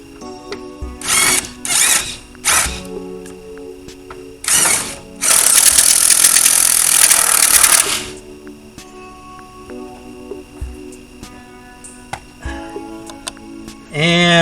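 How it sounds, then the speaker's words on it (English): An impact driver sinks a screw into an aluminum pool enclosure being repaired after hurricane damage, a loud, close rattling burst lasting about three seconds, framed by sharp tapping clicks and handling knocks before and after. "Next is the impact with the screw."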